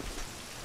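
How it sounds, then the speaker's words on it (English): Steady rain pours in the video game Legend of Zelda: The Missing Link, a dense, even hiss of falling water with a low rumble beneath, loud and continuous with no voices. "Do they all go indoors because it's raining?"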